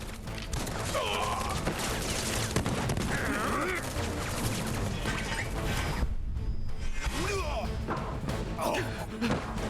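Guns firing during a battle in Final Fantasy VII Remake produce dense, bursting volleys mixed with crashes and thuds. Voices shout over the combat at times.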